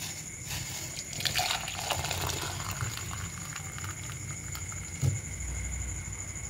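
Boiled tomatoes, garlic and chillies for momo chutney being strained, with a soft continuous watery patter and trickle, plus a brief clunk near the end.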